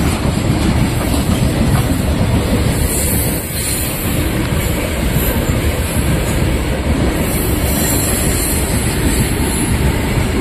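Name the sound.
big train passing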